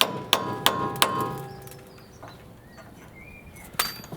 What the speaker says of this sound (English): we're just using an air gun and we're going to put a chisel just in the slot at the back to spread it apart